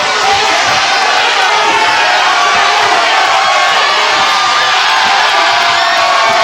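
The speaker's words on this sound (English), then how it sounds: "This crowd's going nuts." A packed independent wrestling crowd at Lakeside Slam roars and cheers loudly and continuously during a women's match with a kendo stick, a dense wall of shouting and whooping voices.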